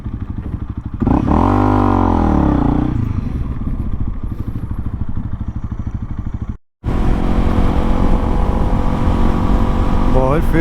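A tuned motorcycle with an ECU remap and dirt bike wheels rides south of New Orleans, its engine droning steadily and loud up close, rising in pitch during a rev before a brief cut, then resuming at a steady cruise.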